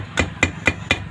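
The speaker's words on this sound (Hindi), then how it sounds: "जो फैले हुए सिरे हैं उसे दबा देना है हथौड़ी से" A hammer taps the spread coil winding ends of a washing machine spin-dryer motor being rewound, four sharp, evenly spaced knocks, close and crisp.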